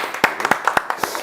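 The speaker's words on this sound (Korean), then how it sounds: "시원하게 박수 한번 주세요." Scattered clapping from a small audience: a handful of sharp, fairly close hand claps in a loose, uneven rhythm over about a second.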